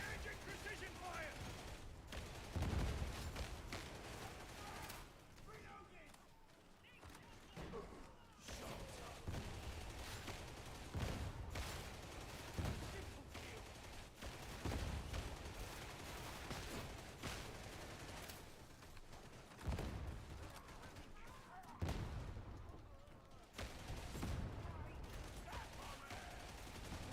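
Gunfire in Warhammer 40,000: Darktide, with dense, continuous shooting and booms heard over game noise and voices throughout.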